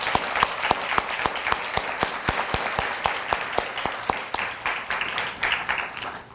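At a university orientation ceremony, an audience claps in a rapid, steady run of distinct, crisp hand claps that carries on for several seconds before gradually thinning out.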